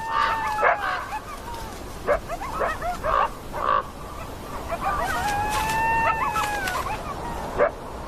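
Coyotes yip, bark and whine in excited bursts around a black wolf, with rising and falling howling cries overlapping, fairly close in open country.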